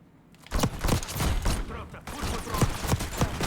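Shotgun fire in the video game Black Ops 6: a quick series of heavy blasts and thuds in close succession, loud and punchy, with game noise between shots and a voice speaking over parts of it.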